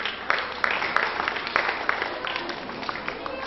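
Audience applause at an Independence Day program at a teacher training institute in Muzaffarpur, Bihar: steady, fairly dense clapping from a room full of people, continuous for several seconds with scattered sharper claps.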